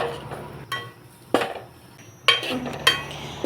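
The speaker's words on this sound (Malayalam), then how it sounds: "മുളക് പൊടി, മഞ്ഞൾപ്പൊടി, മല്ലിപ്പൊടി, മസാലപ്പൊടി എല്ലാം കൂടി നമുക്ക് ഇതിലോട്ട് ആഡ് ചെയ്തിട്ട് നന്നായിട്ടൊന്ന് വശക്കി എടുക്കാം" A spatula scrapes and clanks a few times in a pan as chili, turmeric, coriander and masala powders are sautéed for mutton curry, with separate close strokes over quiet background.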